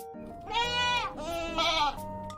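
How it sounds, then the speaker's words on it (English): A goat bleats in a farm setting, two long wavering calls in close succession, loud and near, with no talk over them. "It's a goat."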